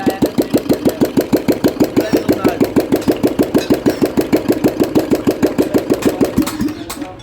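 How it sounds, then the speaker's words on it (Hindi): Repaired Royal Enfield Bullet motorcycle engine running on a workshop stand, a steady loud rhythmic thumping idle of even firing pulses throughout that slows and dies away at the end. "तो भाई अब ये इंजन हो गया इसका स्टार्ट।"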